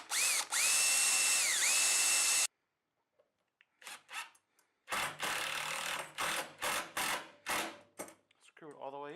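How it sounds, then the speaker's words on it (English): A power drill whines in short and longer bursts as it pre-drills into scrap wood, close by, with brief pauses between the runs. "pre-drill."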